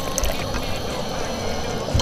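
Water poured into a cooking pot of half-cooked cuttlefish, a steady close splashing pour lasting about two seconds with no pause.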